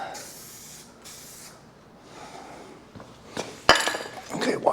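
Spray paint hisses onto the gauge faces of a 1965 Dodge Coronet 500 in several short, close bursts, followed by light clinks and a voice talking.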